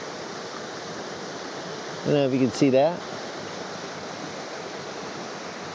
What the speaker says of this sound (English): much less a cute little waterfall.